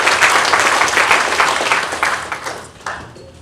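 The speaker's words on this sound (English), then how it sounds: "So a clap of hands for them." Audience claps for hosts at a cybersecurity conference event in New York, a loud burst of many hands that gradually thins and fades over a few seconds.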